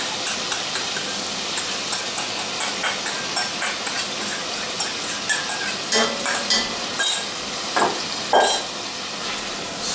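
Lemon juice and reserved marinade going into a pan for a fish tagine, with soft sizzling and a run of rhythmic stirring and scraping taps, close by, with no talk.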